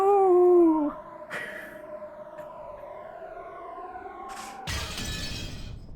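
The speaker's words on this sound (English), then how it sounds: "an incredible sound like that of a glass window breaking reverberated through the hall" A glass window breaking in the Umineko visual novel, a sudden loud shatter near the end after tonal musical and effect sounds, heard alone.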